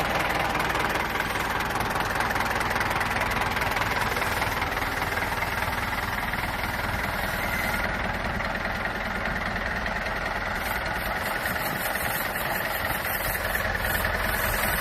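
A steady engine idles continuously, an even mechanical rumble with a light ticking knock, close by and unchanging throughout.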